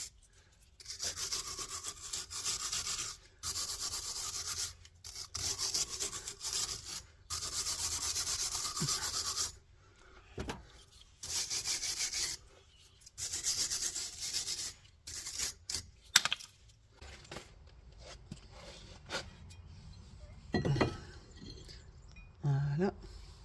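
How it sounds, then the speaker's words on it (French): A wire brush scrubbing a front brake part of a Renault Clio 2 during a disc and pad replacement, in close repeated rasping bursts separated by short pauses, followed by a few quieter knocks. "Un petit coup de brosse métallique."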